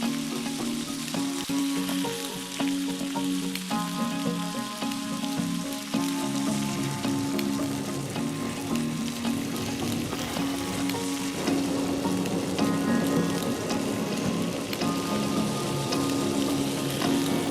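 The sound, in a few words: steak sizzling while being flame broiled with a torch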